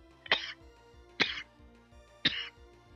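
A person with a cold coughs three times, each a short, harsh, close burst spaced about a second apart over a faint steady background hum.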